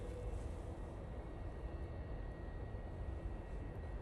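TUI airliner at Manchester Airport, a steady broad rumble of jet engines holding for the whole stretch, moderately distant and with no voices over it.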